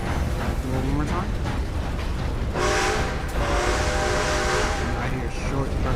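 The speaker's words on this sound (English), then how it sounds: "So I did one short burst and then a long one after that." Steam train whistle in the Red Dead Redemption video game: a short burst followed by a long, sustained tonal blast, loud and close over steady background rumble.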